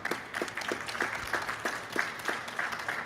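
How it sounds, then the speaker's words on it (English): A conference audience at a UN desertification summit session gives the panelists a short round of applause, brisk clapping with a bouncy, slightly rhythmic pulse, moderately loud for about three seconds. "I think we can give our panelists a round of applause."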